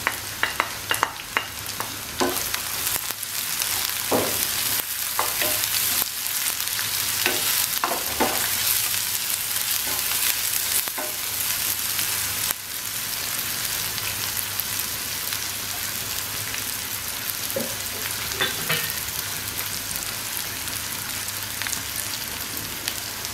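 Onion and garlic fry and sizzle in a pan, browning while being stirred, a steady loud hiss with scraping stir strokes breaking through, especially early on, with no talking.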